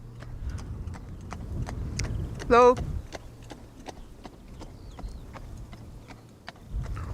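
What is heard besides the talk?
horse hooves clacking, horse and carriage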